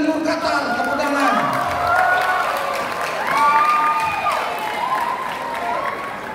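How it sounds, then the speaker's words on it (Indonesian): Applause and cheering from the audience at a school farewell ceremony at MTsN 01 Pekanbaru, a sustained crowd wash of clapping with voices shouting and talking over it. "tepuk tangan"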